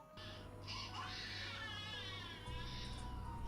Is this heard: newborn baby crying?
yes